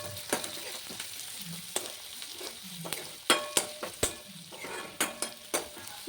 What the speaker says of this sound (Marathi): आता हा कांदा छानपैकी भाजून घ्यायचा